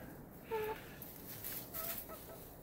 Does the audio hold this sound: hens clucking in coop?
yes